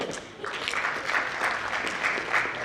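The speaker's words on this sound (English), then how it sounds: "A big clap for him." A conference audience at a sports and exercise medicine event applauds a keynote speaker taking the stage, steady dense clapping filling the room at moderate loudness, slightly thinner at first, then holding even throughout.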